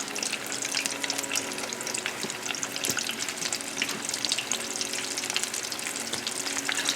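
Panko-breaded sea scallops fry in hot oil with a steady, dense crackling sizzle that stays loud and even throughout, with no talking.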